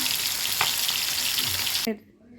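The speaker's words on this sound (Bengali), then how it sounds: "মাথাটা ভাজি হচ্ছে আর এখানে বল মাছ ভাজি হচ্ছে" Steady, loud sizzling of boal fish and a fish head frying in hot oil, continuous for about two seconds before cutting off abruptly, leaving a quiet room hum.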